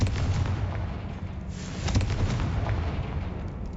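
A Confringo blasting spell explodes in Hogwarts Legacy, a dense, roaring burst of booming noise that stays loud and continuous for a few seconds with a slight swell in the middle, heard alone without talk.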